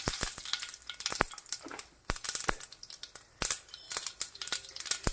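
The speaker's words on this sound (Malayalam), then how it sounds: "ചൂടായ എണ്ണയിലേക്ക് 1/2 ടീസ്പൂൺ കടുക് ഇട്ട് കൊടുക്കാം." Mustard seeds spatter and pop in hot coconut oil in a pan, sharp crackling bursts scattered irregularly over a steady close sizzle, with no talking.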